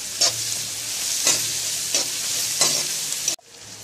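Onions, green chilies and curry leaves sautéing in a hot pan for tomato rice, with a steady sizzle and regular scraping stirs about once a second, close and fairly loud, ending abruptly.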